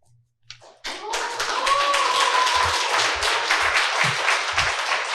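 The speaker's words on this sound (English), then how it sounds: "Can we give her another round of applause?" A symposium audience breaks into loud, sustained applause after a testimony about North–South Korean unification. The clapping is dense and steady, rising quickly from near silence and holding with a few thumps beneath it.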